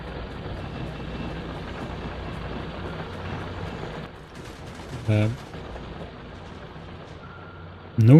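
Gun turrets fire in the video game Factorio with the Rampant mod, a dense continuous rattle of rapid shots that thins out partway through, with a few sharper bursts standing out near the end.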